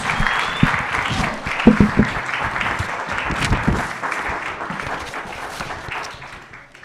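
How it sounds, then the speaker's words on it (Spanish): An audience at a university law faculty conference in Chihuahua breaks into sustained, loud clapping from many people, which slowly thins and fades toward the end. "le damos un fuerte aplauso para que comience la conferencia"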